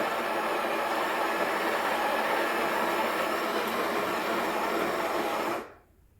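A Breville Barista Express BES870 espresso machine's built-in burr grinder grinds coffee beans at its finest setting, a loud, steady, close whirring drone that runs on and then stops abruptly near the end.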